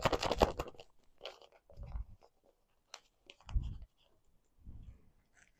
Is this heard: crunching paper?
yes